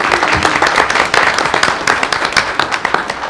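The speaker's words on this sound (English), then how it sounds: "Let's give them another round of applause" A board meeting audience gives a presenting group another round of applause, a short burst of close, crisp clapping that rises quickly and begins to thin toward the end.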